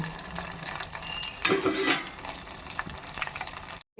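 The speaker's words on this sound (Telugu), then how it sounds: "ఎర్రగా ఉండాలి ముక్క, అప్పుడు దాకా మనం ఫ్రై చేసుకుందాం." Chicken pieces frying in oil in a pan for Andhra-style chicken pickle, a continuous soft sizzle with a louder burst of stirring and scraping midway, close by before a brief cut to silence.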